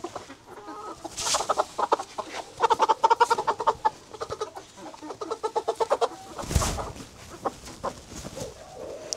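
Chickens on a farm cluck and squawk in rapid agitated bursts while being handled for vaccination, close and loud, with a sharp flurry near the middle.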